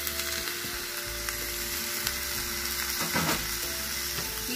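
Rice and garlic fry in a pan with a steady, dense sizzle, broken by a few stirring scrapes of the spoon, close and continuous with no voices.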